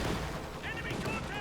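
A Soviet Sturmovik air strike in Company of Heroes 2 strafes the ground in a dense, continuous roar of rapid gunfire. A commentator talks over it.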